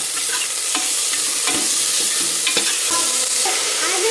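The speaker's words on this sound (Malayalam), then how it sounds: "ഇഞ്ചി വെളുത്തുള്ളി പേസ്റ്റ് ചേർക്കാം കേട്ടോ" Ginger garlic paste frying and being stirred in hot oil for egg biryani cooked in a pressure cooker, a loud continuous sizzle with repeated scraping strokes of a spoon, no voices.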